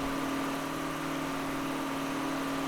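A tractor engine idles steadily in the Farming Simulator video game, a low, even droning hum with a constant tone, quiet and unchanging throughout, no voices.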